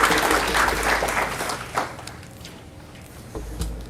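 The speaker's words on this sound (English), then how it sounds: "Let's give our staff a round of applause." An audience applauds school staff at a career center graduation ceremony. Dense clapping starts loud, then thins and fades over a few seconds into scattered claps.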